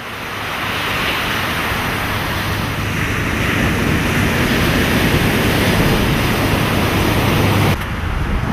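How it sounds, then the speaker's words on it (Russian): Steady, loud surf rolls in along Kihei Beach, a long sandy beach on Maui, Hawaii, a continuous broadband wash of breaking waves with some wind rumble, dropping off abruptly near the end. "10-километровый Кие-Бич – самый длинный песчаный пляж на Гавайях"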